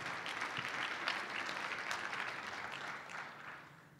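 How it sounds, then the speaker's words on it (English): Conference audience at a retailing event breaking into applause, a steady dense patter of many hands clapping that holds strong throughout and eases slightly toward the end, with no voices over it. "oh, you can clap again, because it's awesome, right?"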